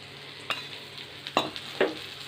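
Plantain slices frying in oil on a tawa: a soft, steady sizzle with a few sharper clatters of utensil against the pan, fairly quiet and close.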